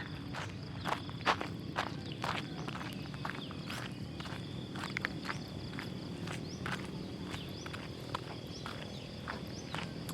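Steady footsteps on an outdoor path beside rice fields on a morning walk, a regular crunching tread close by over a constant background of insects and birds, with no talking.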